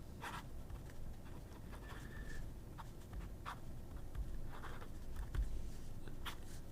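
A fountain pen with a fine Schmidt nib, on a brass clone body, scratches faintly across paper in soft, irregular strokes over a quiet background hiss.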